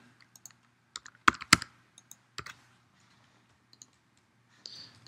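Password being typed on a computer keyboard: a few scattered key clicks, then a quick cluster of sharper taps and a short burst near the end, close and clear in a quiet room with no talking.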